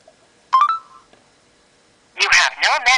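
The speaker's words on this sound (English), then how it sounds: "now let's try calling the voicemail" A smartphone dialing voicemail: a short burst of electronic phone tones, then a pause before a voice speaks.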